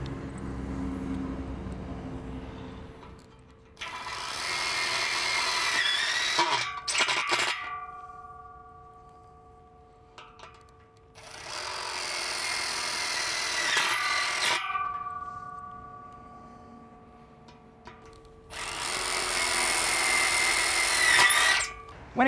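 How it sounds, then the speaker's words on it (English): A power drill drives tech screws into a fence cleat on a Hebel PowerFence build, three long whirring bursts with pauses between, close and loud, each run rising and slowing as the screw seats. "screw it off with tech screws"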